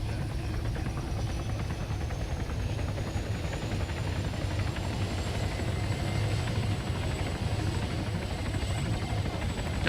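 A helicopter engine running at about half throttle in the military game Arma 3, a steady close whine and rapid rotor chop holding an even, unbroken level throughout.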